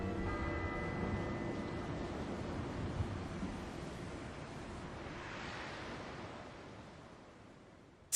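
Water waves washing on a video game title screen, a continuous broad surf wash with gentle swells, steady and moderately loud with no talking.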